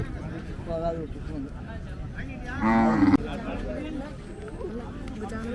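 Cattle at a rural livestock market in Palayakottai, with a loud moo rising briefly mid-clip over constant crowd chatter and people talking nearby.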